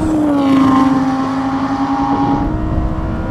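A Lamborghini Huracan, Audi R8 and Nissan GT-R accelerate hard in a drag race, a loud sustained engine roar with rising and falling tones, close and continuous without talk.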